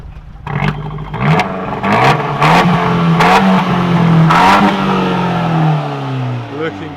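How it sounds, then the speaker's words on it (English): An Abarth 124 Spider engine revving up repeatedly, rising and falling in pitch at close range, with voices talking over it before it settles to idle. "Give it a rev."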